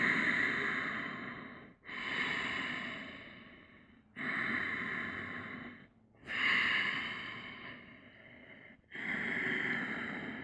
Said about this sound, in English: just breathe